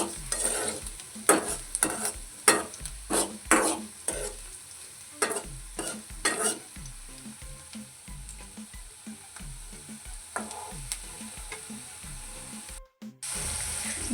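Onions and chillies cook in a pan over a low gas flame, giving a steady quiet sizzle with repeated bursts of stirring and scraping, no talking.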